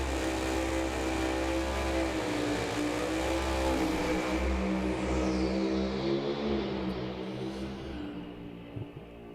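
Drag racing car revving hard on the starting line at Firebird Raceway during a competition run, a loud, sustained engine roar with rising and falling pitch that eases slightly toward the end.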